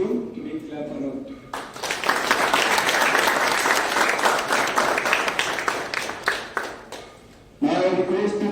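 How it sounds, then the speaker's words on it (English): Audience at an NCC awareness seminar bursts into sustained applause for several seconds, sandwiched between brief stretches of a speaker's voice before and after. "So we give big clap for him."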